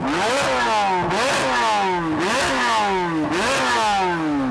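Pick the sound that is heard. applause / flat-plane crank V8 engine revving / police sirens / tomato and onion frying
flat-plane crank V8 engine revving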